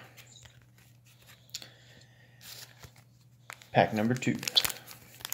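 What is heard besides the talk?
Mortal Kombat trading card pack being ripped open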